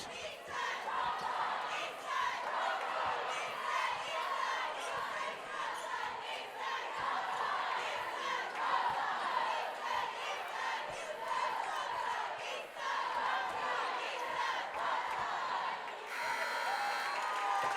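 Cheerleaders and a home crowd from Weslaco East cheer loudly and steadily through a high school boys basketball game, a dense roar of voices with sharp bursts and occasional ball bounces underneath.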